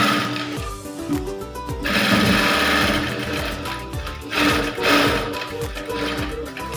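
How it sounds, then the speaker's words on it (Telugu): A sewing machine stitches blouse front fabric in quick rhythmic bursts of needle clatter, pausing briefly between runs. It is close and loud, with no voices. "ఇలా అంతా ఓపెన్ చేసేసి కేవలం మనం స్టిచ్చింగ్ చేసిన క్లాత్ పైన మాత్రమే స్టిచ్ పడేలాగా వేసుకోవాలి"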